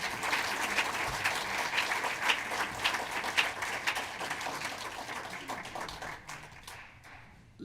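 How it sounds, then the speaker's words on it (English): An audience in Portland claps warmly for Mr. Margolis, a dense and even round of applause that carries on strongly before thinning and fading out near the end. "So again, I want to give him a round of applause."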